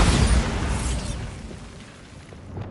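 A Bombarda blasting spell detonates in a Hogwarts video game, a loud booming explosion at the start that decays into a rumbling, crackling tail.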